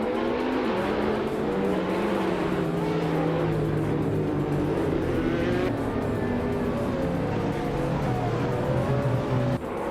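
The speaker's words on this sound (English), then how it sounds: "the race kicks off at Marina Bay with Leanne Trudeau leading in her 2020 Porsche 935" Race cars, among them a 2020 Porsche 935, roar around the Marina Bay street circuit in a racing video game, their engines sustaining a loud, continuous whine with shifting pitch and occasional tire squeal, no talking.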